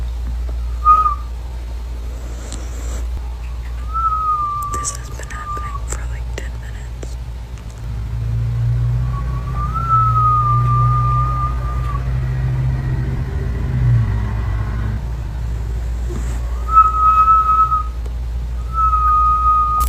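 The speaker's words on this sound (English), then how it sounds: "A sharp whistling sound echoed from the woods outside her cabin" Several clear, sharp whistles, each a short held tone, repeat at intervals from the woods at some distance over a steady low engine-like hum, with a voice speaking briefly.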